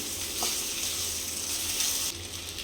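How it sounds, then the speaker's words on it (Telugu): Boiled taro roots stirred in a hot pan for a curry, a steady close sizzle and frying hiss with light stirring scrapes, continuous and fairly loud, with no voices. "ఇప్పుడు చేమగడ్డలు మనం ఉడకబెట్టుకున్నాం కదండి, అవి వేసుకుందాం. వీటిని ఒకసారి కలుపుకొని"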